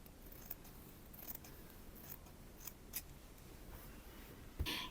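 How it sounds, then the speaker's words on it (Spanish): Scissors trimming excess fabric at a sewn edge, a string of faint, quiet snips spread across the clip, with a louder click near the end. "Aquí ahora al borde le voy a recortar el sobrante"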